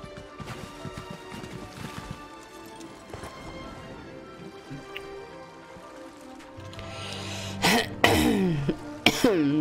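A man coughs while playing the online game Elder Scrolls Online, with quiet background game sounds first and then several sharp, close coughs near the end.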